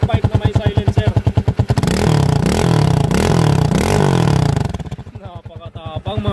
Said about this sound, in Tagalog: Ayan, bullet pipe na may silencer.